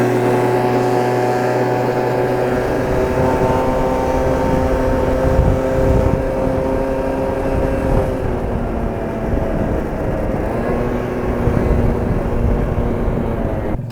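A 50cc scooter engine revs hard at high RPM, a loud, close, droning whine whose pitch shifts slightly as it pulls, continuous throughout with no voices.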